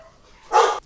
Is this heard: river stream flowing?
no